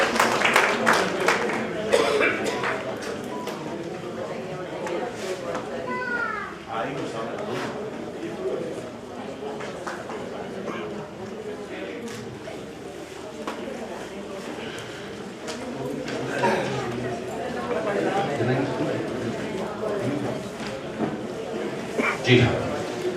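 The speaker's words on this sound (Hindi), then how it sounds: "एक बार जोरदार तालियां बजाइए श्रीमती सुधा जी के लिए" Sustained audience applause for Mrs. Sudha at a women's gathering, a dense wash of many hands clapping with a loud burst at the start, steady through the middle and swelling again toward the end.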